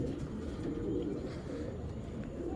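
A large tournament racing pigeon coos softly, a low, rolling throaty murmur repeating quietly and close by with no talk.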